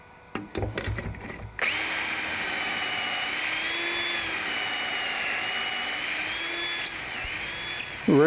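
Power drill driving pocket screws into a cherry wood frame, a few short clicks and knocks, then one sustained high whirring run lasting several seconds, close and steady, ending with a brief burst of handling noise.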